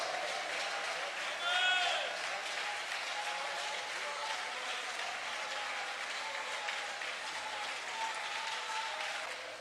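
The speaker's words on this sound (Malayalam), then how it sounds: "വല്ലതും മനസ്സിലായെങ്കിൽ കൈയടിച്ച് ദൈവത്തിന് സ്തോത്രം ചെയ്യാം." Church congregation clapping hands in praise at a Malayalam Christian service, a steady mass of applause lasting throughout, with a brief bleat-like vocal tone early on.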